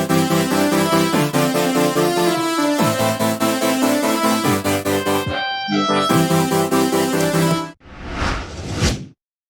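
Stacked future bass synth leads play a loud, bright chordal melody with sidechain pumping from a limiter keyed to the kick, pausing briefly, then ending in a short noisy swell before cutting to silence.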